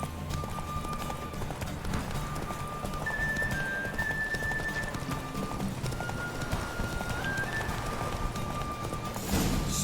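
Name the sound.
horse galloping in the video game Witcher 3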